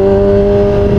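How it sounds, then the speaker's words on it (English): A 2003 Kawasaki ZX-6R motorcycle fitted with a MotoGP exhaust revs loud and close, giving a steady, buzzy engine drone with strong harmonics held through the short stretch, with no voices. "I am completely in love with this exhaust so much."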